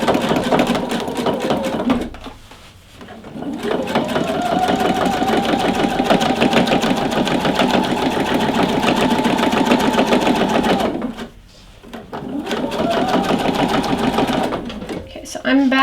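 A sewing machine stitches a thick jeans hem in long, loud, continuous runs of rapid mechanical whirring, stopping briefly twice, while a person talks over it.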